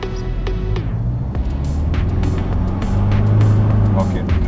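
Hyundai Terracan diesel SUV engine revving up under acceleration, a loud steady drone rising in pitch, with someone talking over it.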